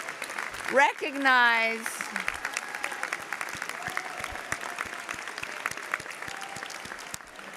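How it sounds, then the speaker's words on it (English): Applause from a medical school commencement crowd honoring graduates' families and friends, steady dense clapping across the hall, with a speaker's voice heard briefly at the start. "give them a huge round of applause"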